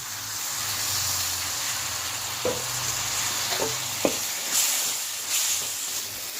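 Chopped tomatoes hit hot oil in a pan for Kerala-style chicken chukka, giving a loud, steady hiss of frying with a few scraping stirs and spatters partway through.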